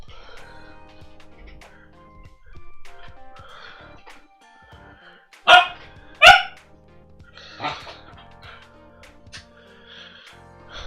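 A puppy barking indoors, with two sharp yips close together and a softer bark after, over quiet background noise.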